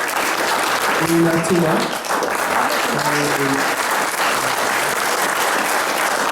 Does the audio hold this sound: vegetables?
no